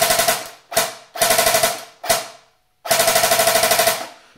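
An Army Armament KU906 Steyr AUG airsoft gun fires on full auto in close, loud bursts of rapid mechanical clacks, four strings separated by short pauses and a longer gap before the last burst.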